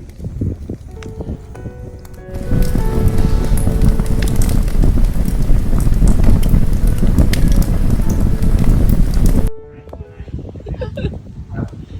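Wind gusts and buffets around a wood-burning fire pit on a bush farm, a loud rushing roar that swells for several seconds and then drops away, with faint crackling.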